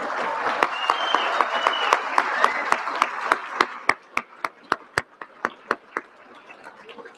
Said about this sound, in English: We'll give one more round of applause, please.